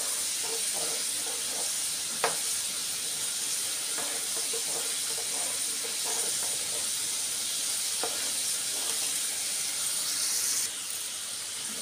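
Amla gooseberries fry in hot oil for a pickle, a steady, even sizzling hiss that runs unbroken for several seconds, with a few faint clicks and no talk.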